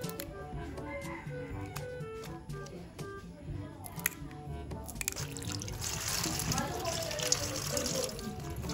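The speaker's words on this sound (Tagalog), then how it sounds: "hugasan na po natin itong kangkong" Running tap water over water spinach (kangkong) being washed in a home kitchen, a steady splashing stream that builds louder in the second half, with a voice speaking early on.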